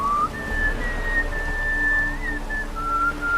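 A single clear whistled melody from the character Gaunter O'Dimm in the video game The Witcher 3, long sustained notes gliding up and down over a low steady ambient hum, close and prominent with no speech.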